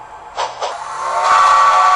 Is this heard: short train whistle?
yes